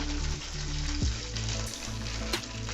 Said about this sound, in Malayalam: ഇതൊക്കെ ചുമ്മാ ഫ്രൈ ചെയ്തിട്ട് ആ വറുത്ത് വെച്ചേക്കുന്ന ചിക്കൻ്റെ മുകളിലേക്ക് ഇടാൻ വേണ്ടിയിട്ടാണ്